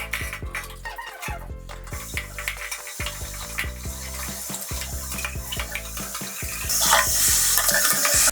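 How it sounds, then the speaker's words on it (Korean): Cordless wet-vacuum parts scrubbed by hand with soap under running water, with close squeaky rubbing, splashing and sloshing throughout and a louder rush of tap water toward the end. "저는 살짝 비누로도 깨끗이 닦아줍니다."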